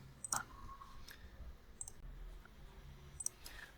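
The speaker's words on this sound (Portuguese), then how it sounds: "eu posso clicar aqui no lápis, ou dar um duplo clique" Several sharp computer mouse clicks at close range, a pair near the start and a double click later, spaced out over quiet room tone during an Exchange Online admin portal walkthrough.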